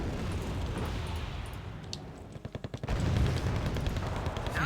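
Artillery fire in the war strategy game Wargame Red Dragon: a dense, rumbling barrage of booming impacts, with a quick run of sharp rhythmic bangs midway before the heavy roar swells again.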